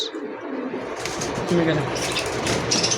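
Racing pigeons from a farm coo softly nearby amid a cluster of birds, with rustling and faint background murmur; low, throaty calls repeat through the moment.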